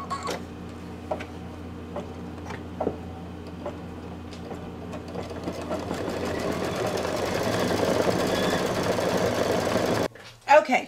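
An embroidery machine stitches satin fill on a Santa table runner, a rapid mechanical chatter that starts with scattered ticks, builds into a steady louder whir, then stops abruptly near the end.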